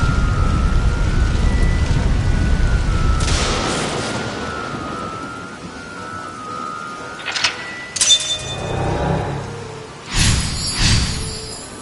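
A lightning strike hits a stone pillar during a storm in The Quarry video game, steady rain hissing beneath loud crackling thunder bursts, with sharp cracks and rumbles arriving near the end.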